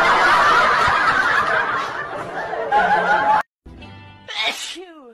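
A baby sneezes once, loud and close, followed by a brief pause and then a baby's short giggle or squeal; earlier a steady mix of background chatter and noise fills the scene.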